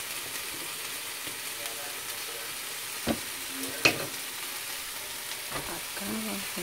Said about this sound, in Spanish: yo me gusta así sofreírla primero, luego ya echarle la cebolla, el chile dulce